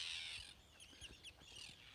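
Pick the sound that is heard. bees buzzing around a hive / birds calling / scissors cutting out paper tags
birds calling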